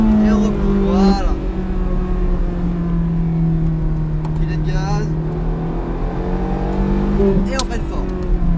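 Ferrari F430 Scuderia engine revving hard on a race track, heard from inside the cabin as a loud, steady drone with rising and falling pitch and throttle blips, with occasional speech over it.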